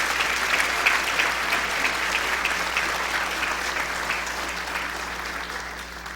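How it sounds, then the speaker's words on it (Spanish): Applause at a graduation ceremony, a dense, steady wash of many hands clapping in a large room that keeps going for the whole stretch and fades only slightly toward the end. "Los animamos con otro fuerte aplauso entonces."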